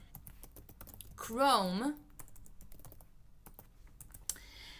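Keys clatter on a computer keyboard while a search term is typed into a browser search box, steady soft tapping with a brief burst of speech partway through.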